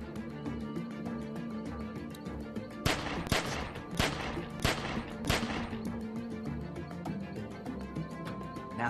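Gunfire in The Walking Dead 400 Days game: a run of about five sharp, loud shots spaced roughly half a second apart, set over a steady game background ambience.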